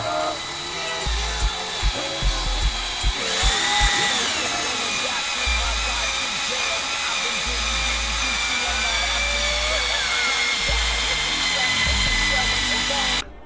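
Reamer driven by a power tool through a valve guide in a Honda B16 cylinder head, lubricated with WD-40, giving a steady high whine over intermittent low rumbling bursts throughout.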